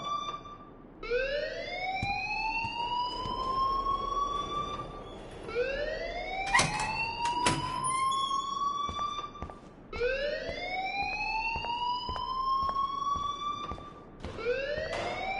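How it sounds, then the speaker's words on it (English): An alarm wails in the Life Is Strange video game, loud rising sweeps that climb and level off, repeating in a steady cycle every few seconds with no talking. "please turn off that alarm since that's your job"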